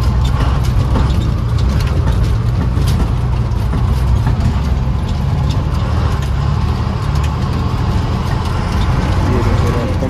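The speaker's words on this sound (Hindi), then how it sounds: "इंडिया में फर्स्ट टाइम ऐसा हो रहा है कि ऑफ रोडिंग कर रहा हूँ बस से" A bus drives off-road along a mountain road in Uttarakhand, its engine droning low and constant with rattling and clattering from the body throughout, heard loud from inside the cabin.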